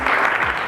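Conference audience in Multan claps to welcome a guest, a brief, close burst of dense applause.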